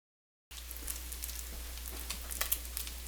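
Bacon frying in its own fat in a pan for carbonara, a faint steady sizzle with light crackling pops and a low hum beneath, no talk.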